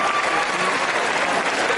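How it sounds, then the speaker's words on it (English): A podcast audience gives a round of applause, a dense, even wash of clapping and crowd noise that holds at a steady level throughout, with no voice on top. "Nice round of applause here."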